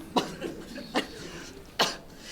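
Three separate coughs ring out during a Filipino rap battle, each sharp and fairly close, spaced about a second apart over a noisy room.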